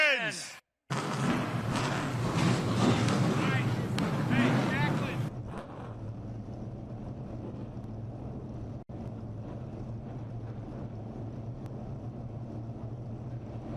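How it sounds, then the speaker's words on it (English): CARS Tour race cars at Southern National Motorsports Park fire up in a loud, dense roar that settles after a few seconds into a steady, lower engine rumble, with voices over it. "Drivers, start your engines."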